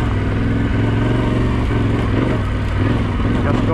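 A Yamaha Tenere 700 motorcycle labours along a rutted trail in first gear, its engine a loud steady low drone with small rises and dips in throttle, heard up close with wind buffeting and a rider's voice over it.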